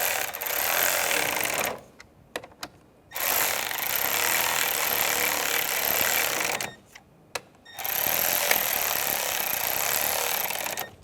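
A power screwdriver snugs down screws during a clutch kit replacement on a 2005-2010 Chevrolet Cobalt, with three long, loud whirring runs close by, separated by short pauses holding small clicks.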